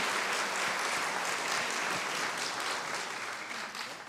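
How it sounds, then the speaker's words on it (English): Audience applause at an evening event, a dense burst of clapping from a large crowd that stays loud and steady for a few seconds before easing slightly at the end. "Please give her a round of applause."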